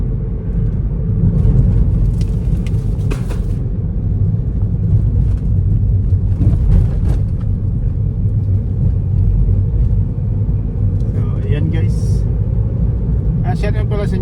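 Heavy road traffic seen from inside a vehicle makes a loud, steady low rumble of engines throughout, with a few faint higher clinks and noises appearing briefly.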